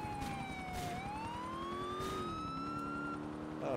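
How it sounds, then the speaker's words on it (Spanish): Police siren in the GTA IV video game wailing continuously, its pitch sweeping up and down over steady game engine and traffic noise, loud and close throughout. "Ah, pinche sirena."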